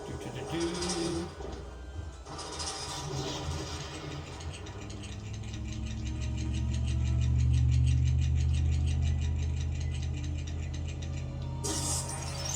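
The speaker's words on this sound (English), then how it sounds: "we just gotta push this block over here" A block being pushed in the Lego Star Wars II video game produces a long grinding, ratcheting mechanical scrape that swells louder midway and then fades, set over a low rumbling game soundscape.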